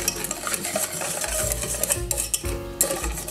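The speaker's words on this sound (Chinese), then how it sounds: "如果你没有电动搅拌器的话，用这个打蛋器怎么把它打发哦" A hand whisk stirs instant coffee, sugar and water in a bowl, with continuous rapid scraping and clinking against the sides, fairly close and steady, with no voices.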